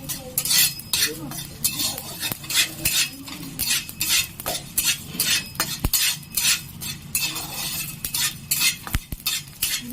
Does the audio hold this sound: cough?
no